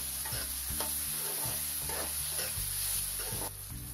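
Ground red chili and whole cumin stirred in a hot pan for egg bhurji, a continuous close sizzle with repeated scraping strokes of a spoon against the pan.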